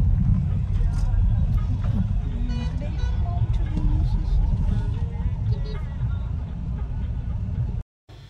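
A car drives along with a low, steady engine and road rumble heard from inside the cabin, while people talk over it throughout.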